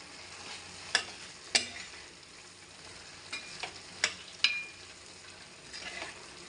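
Fried taro pieces are stirred and mixed in a sizzling pan, with a low frying hiss under sharp intermittent scrapes and clinks of the spoon against the metal.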